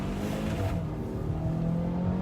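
A steady, throaty 2019 Volvo V60 exhaust drones loudly and continuously, its pitch rising slightly as the car accelerates.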